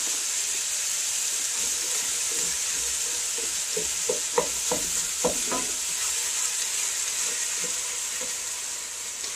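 Two medium onions frying in a large pot for quick chili, a steady close hiss and sizzle with soft stirring clinks and scrapes scattered through the middle, no voices.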